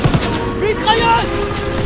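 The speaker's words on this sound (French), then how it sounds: "Mitrailleuse!" Machine-gun fire crackles in rapid bursts during a Call of Duty WWII train battle, mixed with tonal game sounds and voices shouting over the din.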